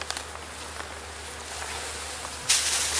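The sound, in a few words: bees buzzing in opened hive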